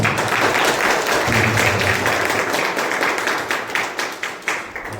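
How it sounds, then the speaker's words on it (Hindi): A church congregation claps together in a dense, steady round of applause for the Lord after a prayer, the sound thinning into separate claps near the end. "एक अच्छा ताली बजाएं प्रभु के लिए।"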